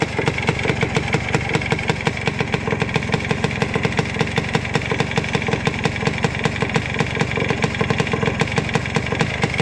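A Yamaha Blaster ATV engine idles steadily up close, a fast even chugging rhythm holding constant for several seconds without any speech.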